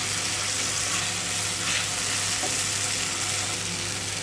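Ground spice paste hits a pan of fried onions while cooking rui fish bhuna at home, giving a steady, even sizzle with faint stirring scrapes.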